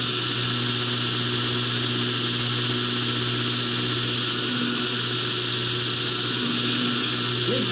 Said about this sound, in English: you can see grinding at a good speed with a sharp cubitron